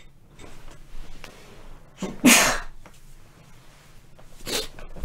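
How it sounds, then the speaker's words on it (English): A single loud, sharp sneeze bursts out about midway through, followed later by a softer breathy exhale, with quiet room noise and small rustles in between. "I'm about to sneeze."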